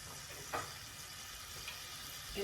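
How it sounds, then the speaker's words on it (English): Quiet, steady sizzling of oil heating in a frying pan before salmon goes in, with a couple of faint clicks and scrapes. "You can hear that sizzle."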